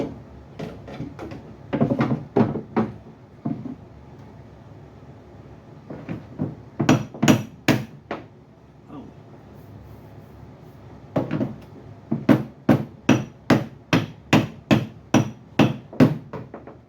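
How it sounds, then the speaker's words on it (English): Sharp hammer blows ring against a 1978 Trans Am's wrinkled quarter panel, close up: scattered strikes, then a quick steady run of about a dozen hits. "Where's my bigger hammer?"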